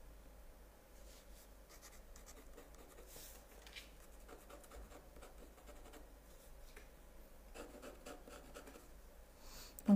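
A pencil draws a pastel portrait on 160 gsm paper, giving soft, close scratching and rubbing strokes in irregular bursts. The strokes are faint and steady and no voice is heard.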